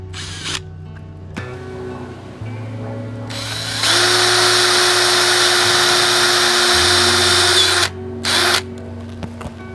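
A power drill with a 1/4 inch bit bores bolt holes in a bracket for mounting ram rod holders on a Sport Track, whining close and loud in steady bursts that shift pitch as it bites, then stops briefly and restarts.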